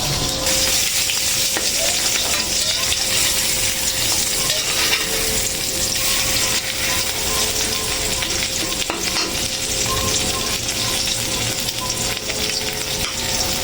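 Egg frying in hot oil for a breakfast dish, with loud continuous sizzling and crackling spatter close by, steady throughout.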